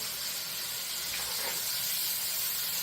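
Steak fingers sizzle in overheated oil, a steady loud hiss of frying that runs unbroken and close throughout, with no voices.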